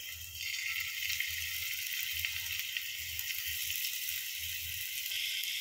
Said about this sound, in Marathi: हे बघा तेल आता छान गरम झालेलं आहे, ह्याच्यामध्ये आपण चिकनचे पीस टाकून घेऊयात